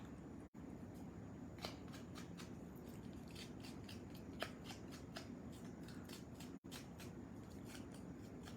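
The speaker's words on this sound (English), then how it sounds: "just with a pair of scissors, and I'm just scraping it" Quiet, repeated scraping of scissors against greeting-card paper, soft rasping strokes in an irregular rhythm, close and faint.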